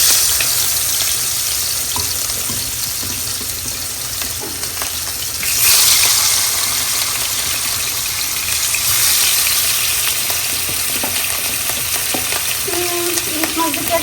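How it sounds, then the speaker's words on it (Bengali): Hilsa fish fries in a pan with a loud, steady crackling sizzle that swells briefly partway through, with no one speaking over it. "ইলিশ মাছটা একটু ভেজে নিই।"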